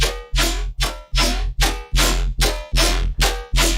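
Driven synth bass with overdrive distortion, pumping in about nine dense, rhythmic bursts with deep sub weight and a gritty, bright top, loud and steady.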